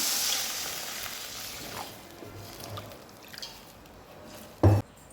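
Water poured into a hot pan while cooking a Tamil-style raw banana and sesame stir-fry, giving a soft hiss and faint dripping sizzle, with a short louder splash burst near the end.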